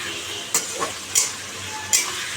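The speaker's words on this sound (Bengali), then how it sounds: "মশলাটা এখন কষাবো একটু কষিয়ে" Spice paste with two tomatoes sautés in a pan for a Bengali home-cooked lunch, sizzling softly and steadily. Three sharp scrapes of a spoon against the pan punctuate the frying at irregular intervals.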